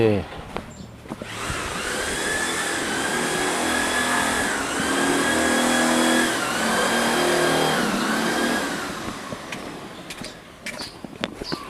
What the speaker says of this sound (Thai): ก็จะมาสีข้าวอีกจะมีเสียงหน่อย